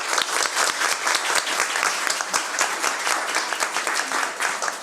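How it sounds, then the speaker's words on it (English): An audience at a school district board meeting applauds student artists with steady, dense clapping that fills the room evenly from start to finish, with no talking over it. "Can we please give these outstanding young student artists a huge round of applause?"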